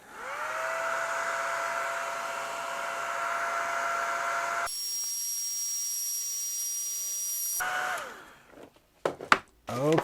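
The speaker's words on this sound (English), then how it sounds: "We'll blow some hot air on it for a little bit." A hot air blower set on low, used to dry acrylic paint, gives a loud, steady whooshing drone. It shifts pitch partway through, then winds down and stops, followed by a few faint knocks.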